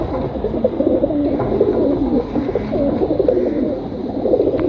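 Pigeons coo steadily in an open-air loft under the open sky, a dense, continuous layer of overlapping low coos close by with no talking.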